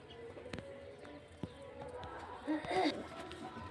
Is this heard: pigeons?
yes